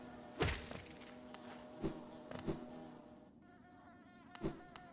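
Insect-like buzzing ambience of the Hive area in Hollow Knight, a faint steady drone punctuated by a few soft thunks and thuds.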